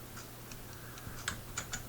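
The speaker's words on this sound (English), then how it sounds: "I'm just typing the name" Someone types on a computer keyboard: a handful of light, irregular keystroke clicks, close and soft, with a quick burst of taps toward the end.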